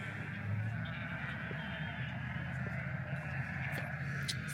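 Sheep on a ranch bleat at feeding time, the calls faint and distant beneath a steady low rumble, with a few brief higher cries near the end.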